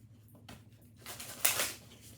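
A deck of tarot cards shuffled by hand, soft flicking riffles building into a brief louder burst of card noise, close and quiet.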